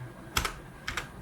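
Someone types an Excel formula on a computer keyboard in two short bursts of crisp, close keystrokes, each a quick double tap, against a faint background hum.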